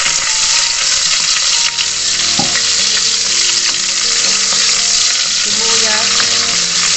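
Garlic sautéing in hot oil at the start of a pork pochero, a loud, dense and continuous frying hiss close to the pan, with an occasional faint knock of a utensil under it.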